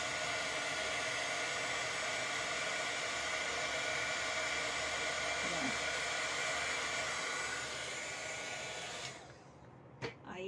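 A hair dryer blows a steady, loud whooshing roar close by while drying paint on an MDF craft box, running continuously for about nine seconds before switching off, followed by a couple of brief handling knocks.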